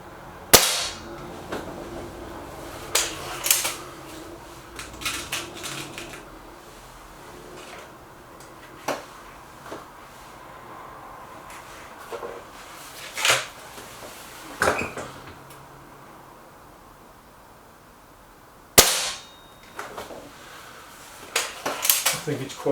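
A Tyrant air rifle fires Bisley and Norma pellets, giving sharp isolated cracks spaced several seconds apart against a quiet indoor background, with occasional small handling clicks between shots.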